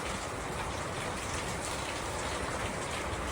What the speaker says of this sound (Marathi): खूप जोरात पाऊस चालू आहे आणि हवा पण खूप चालू आहे जोरजोरात